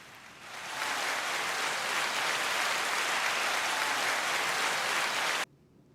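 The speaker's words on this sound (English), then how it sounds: "Sorry about the round of applause being so abrupt." A canned round of applause that swells in, holds as a dense, even wash of clapping for several seconds, then cuts off abruptly, with no voices over it.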